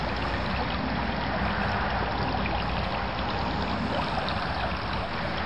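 The Rehbach stream in the Stumpfwald flowing under a road, a continuous broadband rush of water, loud and close, steady throughout without voices.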